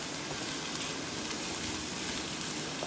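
White lobiya (black-eyed peas) fry in a pan with a steady, faint, even hiss and crackle throughout, with no talking.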